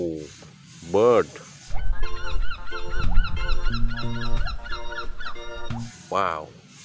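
A bird, likely a goose, gives a run of loud, nasal honks in a steady rhythm, framed by a person's voice just before and after the calls.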